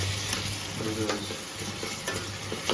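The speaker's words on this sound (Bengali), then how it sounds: "মানে আলুগুলো ভাজা হচ্ছে, ভাজার সাথে টমেটোটাও আর কি মিক্স হয়ে যাবে" Potatoes and tomato frying together in a pan give a close, steady sizzle with scraping stir strokes and occasional crackles, under a low hum and no talking.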